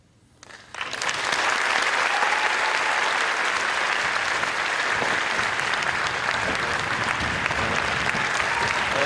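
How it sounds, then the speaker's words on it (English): Sustained audience applause at a veterans' storytelling event launch, a loud, dense, even wall of clapping that swells in within the first second and holds steady to the end. "Yes, give them a round of applause."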